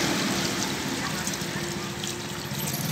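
Water trickling and pouring steadily over dry twigs and plants while watering, a continuous close splashing wash with no pauses.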